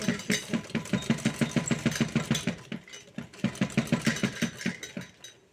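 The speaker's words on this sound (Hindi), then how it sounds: "और फिर थोड़ी सी मार्जिन देते हुए एक और सिलाई लगा लें" A home sewing machine stitches a second line along a blouse seam, running in a steady rapid chatter of needle strokes with a brief pause midway before resuming, close and clear with no talking.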